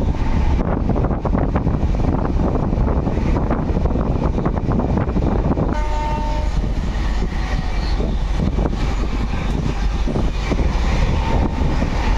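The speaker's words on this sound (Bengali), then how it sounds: "এদিকে ট্রেনও চলছে" Inside a chair car coach of the Puri–Shalimar Dhauli Express, the running train gives a loud, constant rumble and rattle with wind-like rushing, changing tone partway through, with no talk.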